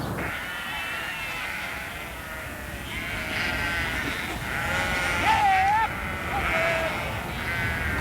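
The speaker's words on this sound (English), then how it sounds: "Libby Kelly and her husband Ian have been raising sheep all their lives" Sheep on a farm on Kangaroo Island, off the South Australian coast, bleat a few times in steady open-air background noise, with one clear call standing out midway.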